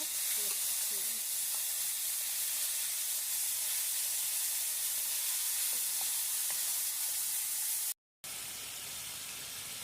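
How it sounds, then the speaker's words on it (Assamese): A ground tomato and onion paste sizzles steadily in hot oil for a potato and pointed gourd curry, giving a constant close frying hiss with faint stirring clicks and a brief dropout near the end. "বিলাহীৰ পেষ্টখিনি আমি ধুনীয়াকৈ ভাজি ল'ম যেতিয়ালৈকে পানীখিনি শুকাই নাযায়"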